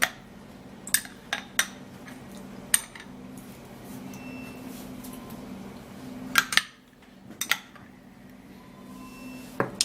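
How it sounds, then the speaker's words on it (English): A spoon stirs a thick mixture of Vaseline, onion and oil in a small container, quiet scraping with sharp clinks against the sides at irregular intervals over a low steady hum. "Okay, so you stir it this way"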